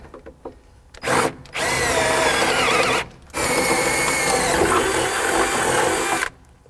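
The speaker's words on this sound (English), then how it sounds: "we're going to drill out these two corresponding holes" A power drill bores holes for a direct-fit throttle pedal assembly on a classic car, running in two loud sustained bursts of whirring with a short pause between, after a brief start-up.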